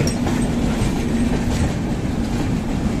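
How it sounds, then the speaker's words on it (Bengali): The Godavari Express pulls into a station with a steady low rumble of wheels and rolling stock, rhythmic clickety-clack over the rails, and a faint squeal, heard up close and continuous with no voices. "ওইদিকে ট্রেন গোদাবরী এক্সপ্রেস ঢুকছে"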